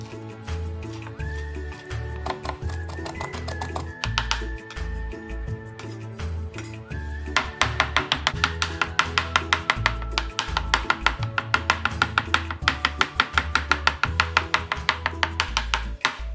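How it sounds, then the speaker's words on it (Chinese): A kitchen knife chopping cleaned, smashed fresh shrimp into paste on a board, starting with a few cuts and then settling into a fast, steady run of sharp close knocks over background music. "先切几刀，再继续剁成泥状。"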